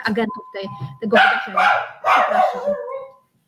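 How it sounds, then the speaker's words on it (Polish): A pet dog barks a few sharp times in a home, mixed in with someone speaking Polish close by. "Czyli to pies. Przepraszam, to mój pies."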